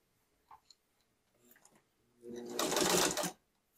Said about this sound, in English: Put the machine in reverse.